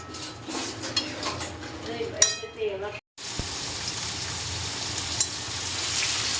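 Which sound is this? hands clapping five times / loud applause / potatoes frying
potatoes frying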